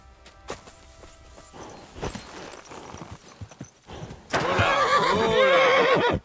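A horse in Kingdom Come Deliverance 2 gives a loud, wavering whinny near the end, after quieter stretches of hoof clatter and footsteps.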